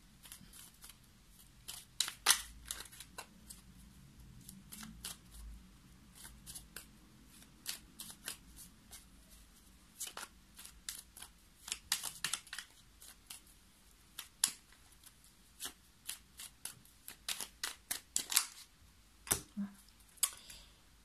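Oracle cards being shuffled and handled at a reading table, a long run of crisp, close riffling snaps and flicks coming in bursts, with quiet pauses between.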